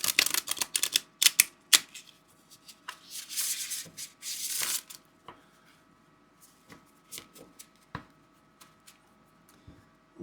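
Tarot cards riffle and shuffle in quick bursts of crisp fluttering, then turn into scattered light taps and slides as the deck is squared.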